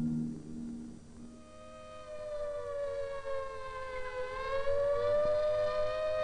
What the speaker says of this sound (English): Jerusalem pauses, while the sirens wail a lament for the fallen.